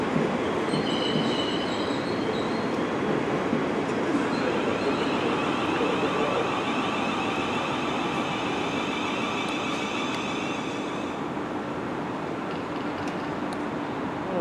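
A Class 450 electric train arrives at Southampton Central close by, its wheels and motors roaring steadily with high squealing tones along the rails, slowly easing off.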